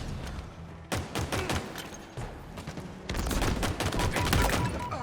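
Gunfire rattles through a Halo Infinite multiplayer match: repeated rapid bursts of shots at a steady rhythm, with a brief lull before a denser, louder volley in the second half.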